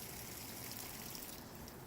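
Water runs steadily from the cold side of an RV's outside shower during winterizing, a continuous faint rushing hiss with no talk over it.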